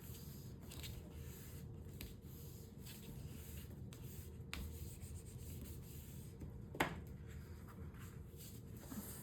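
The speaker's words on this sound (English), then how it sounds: "lining up those sides and burnishing this one down" A tool burnishes a scored paper line while making a card, giving faint, close rubbing strokes with soft scratchy swipes and one slightly sharper tap near the end, with no talking.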